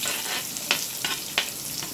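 Onion frying in oil with curry leaves and red chili, a soft steady sizzle close by with a few brief crackling pops spaced through it.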